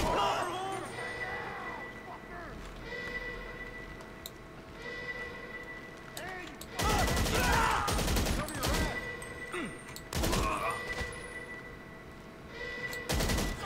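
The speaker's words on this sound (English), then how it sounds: "The heavy rifle." Heavy rifle fire in GTA 5, with loud clusters of rapid shots breaking out after a quieter stretch of game ambience, with talk heard in places.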